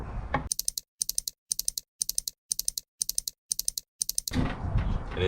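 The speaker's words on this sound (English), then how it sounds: "What you want to do with your pickles, you just want to dice them up." A knife dicing pickles in repeated bursts of quick sharp chops on a cutting board, eight short clusters with brief pauses between, loud and close, followed by a softer rustling clatter.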